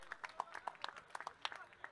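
Light scattered clapping from spectators at a cricket match, the HPL 2025 quarter-final, greets batsman Mahadev, sounding faint and sparse, with individual claps spread irregularly across the moment.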